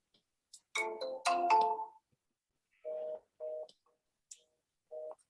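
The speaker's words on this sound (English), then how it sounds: "sometimes they'll just ring and ring and ring and ring and ring, and it won't even go to a voicemail" An outgoing phone call rings unanswered: a burst of warbling ring tones, then three short, evenly spaced electronic rings at a steady rhythm, faint and clear with no voices.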